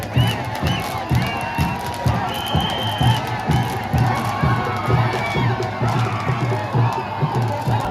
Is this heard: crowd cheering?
yes